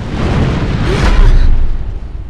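A big bang explosion sound effect, a dense, loud, sustained roar of broadband rumble that swells to a peak near the middle and slowly fades, with no voices.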